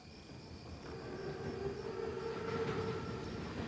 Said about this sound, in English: Biggest train I've ever seen.